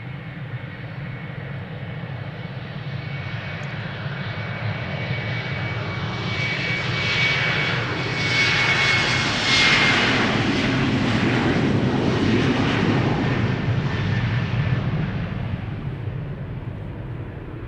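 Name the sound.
airplane departing at Amsterdam Schiphol Airport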